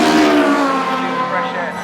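A race car at a bank holiday race meeting screams past, a loud, high engine note that falls in pitch as it goes by, under a commentator's voice.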